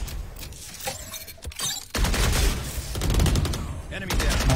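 Rapid bursts of gunfire in a video game shootout, loud and dense, with volleys building after a brief lull and continuing to the end, mixed with players' voices.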